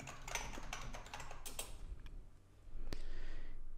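Username and password typed on a computer keyboard: a quick run of close, crisp key clicks that pauses briefly, then a few more taps over a faint room hum, with no voices.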